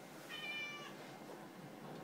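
A cat lets out a single short, thin meow, faint and somewhat distant over a steady background hiss.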